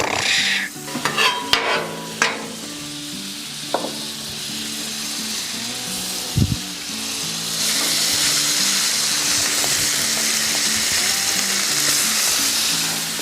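Butter sizzling on a Blackstone griddle during a breakfast cook of hash browns, pancakes and omelettes: a few scrapes and taps at first, then a steady, loud, close hiss of frying that fills the rest of the stretch, with no talk.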